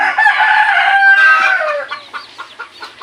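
A labuyo junglefowl rooster crows loudly and close by in one long, drawn-out call, followed by a few shorter clucking notes from the fowl.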